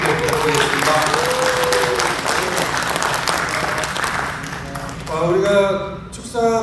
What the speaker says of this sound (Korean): 여러분 우리 박태선 의장님 다시 한번 뜨거운 박수 부탁드리겠습니다.